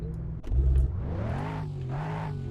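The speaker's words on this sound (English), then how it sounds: "We turn it on and let's give it a few revs." Mustang engine in the Greenville driving game revving a few times, a sharp low-pitched burst up front settling into a steady, rising drone, loud and close with no talk.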